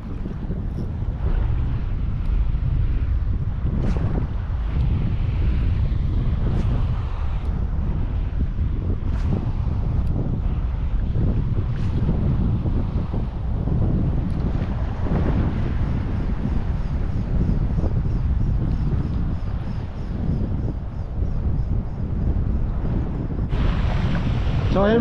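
Strong wind buffets the microphone continuously on a shore while fishing, a rough roaring rush with occasional gusts, alongside faint water sounds.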